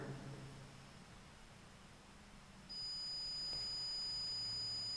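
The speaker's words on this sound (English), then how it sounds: "Who just set off my alarm?" A faint, high-pitched electronic alarm tone starts partway through and holds steadily over a low background hiss, inside a jail.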